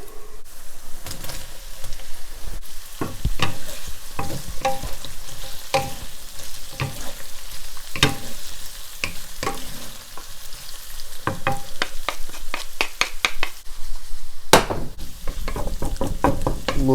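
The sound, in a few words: shrimp frying in hot oil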